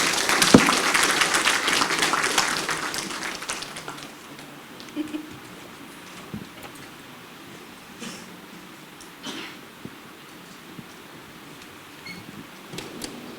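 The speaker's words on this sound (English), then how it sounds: "Round of applause," An audience at a hospital infrastructure report launch with the Prime Minister applauds loudly for about four seconds, then the clapping dies away into a quiet room with a few scattered claps and small noises.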